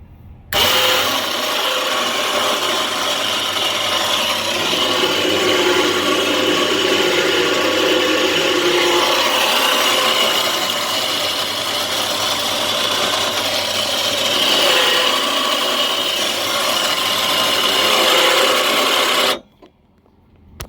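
A truck-mounted winch on a 2011 Toyota Tacoma, hooked to a Jeep, pulls its cable with a steady, loud mechanical whine and motor drone. It runs unbroken for about eighteen seconds, then cuts off abruptly.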